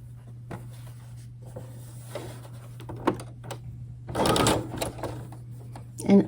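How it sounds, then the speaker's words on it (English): A sewing machine runs in short bursts with a rapid mechanical clatter, alongside a steady low hum and a few small clicks and handling noises. "I don't usually have problems with my sewing machine balling up when we start."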